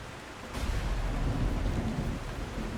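Rumbling thunder from lightning strikes in the video game H.E.L.L.O. W.O.R.L.D swells in after a quiet half second and rolls on steadily over a rain-like hiss, loud and sustained, with no voices.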